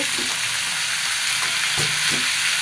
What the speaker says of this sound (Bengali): পেঁয়াজ রসুনটা খুব সুন্দর মতো ভাজা হয়ে গেছে